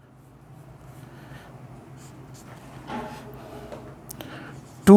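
Marker or chalk strokes scratch across a classroom board as a maths question is written out, short scraping bursts close by over a low room hum, ending in a sharp louder knock.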